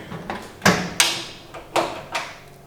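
A large drawer on a 54-inch twin roll cab toolbox, 600 deep, is worked in a shed, giving several sharp knocks and sliding clunks in quick succession, close by and with no talk.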